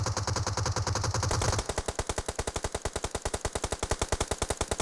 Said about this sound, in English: I hear the shots to the right.